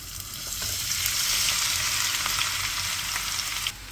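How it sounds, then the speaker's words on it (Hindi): Onions frying in a pan after okra, a loud, steady, close hiss of sizzling oil with light stirring clicks that cuts off near the end, with no speech. "अब प्याज फ्राई कर लेती हूँ।"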